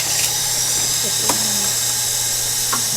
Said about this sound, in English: that was the grease gun making. Yeah, that noise